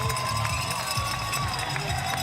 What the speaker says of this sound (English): Tim, listen to that crowd.